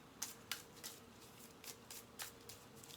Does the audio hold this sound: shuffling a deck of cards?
yes